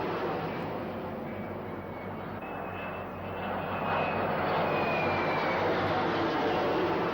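Military aircraft from a carrier task force drone overhead while forming up for a raid, a dense continuous engine roar that swells slightly toward the end, distant-sounding and steady.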